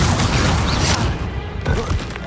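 Confringo spell blast from Hogwarts Legacy, a loud dense burst of fiery explosive crackle that fills the first second, then a second rumbling impact after a brief lull, up close with no talk.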